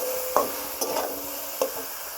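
Mixed vegetables sautéing with cumin powder are stirred in a pan, with a soft low sizzle underneath and three sharp scraping knocks of the spoon against the pan, spaced unevenly, and no voices.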